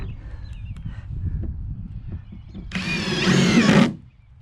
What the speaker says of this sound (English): I'm going to put one screw in the middle of each board here